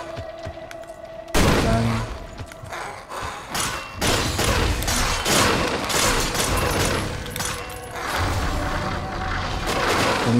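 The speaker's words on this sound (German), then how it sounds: "Dann schießen wir den erstmal die ein paar rein" Shooting at a big enemy in the action game Victor Vran, a steady barrage of loud gunfire and heavy booming impacts, with someone briefly speaking at the start.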